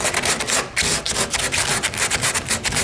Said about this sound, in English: So you're just trying to scuff it up